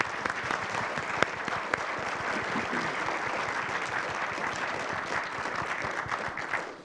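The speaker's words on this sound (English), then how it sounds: "give everybody a round of applause for coming out." Audience at a county commissioner candidate debate applauding, a steady wash of clapping with a few sharper claps standing out, fading slightly at the end.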